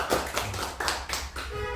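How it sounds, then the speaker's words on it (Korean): Congregation in a Korean church clapping in a short burst of about six firm, evenly spaced claps, close and distinct. "말 나온 김에 우리 박수 한번 합시다."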